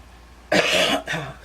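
One person gives a close, loud double cough, a harsh first burst followed quickly by a shorter second one.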